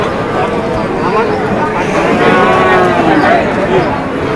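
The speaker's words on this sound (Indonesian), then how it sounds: "Kualitas sapi bakalan hari ini pasar Wagenan." Cattle moo repeatedly at a busy Wagenan livestock market, with young beef cattle for sale, their calls rising over a dense crowd babble and people talking close by.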